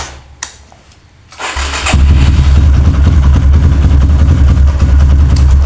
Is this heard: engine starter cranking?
yes